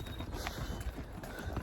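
A young horse being ridden on a ranch gives quick, uneven hoof clip-clops, close and fairly faint over a rough background rumble.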